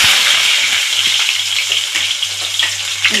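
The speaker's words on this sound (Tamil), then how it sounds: "கருவேப்பிலை, வெங்காயம் போட்டுக்கிறேன்." Curry leaves and onion crackle and sizzle in hot oil after fennel seeds, a close, loud, continuous frying hiss with a low pulsing hum underneath throughout.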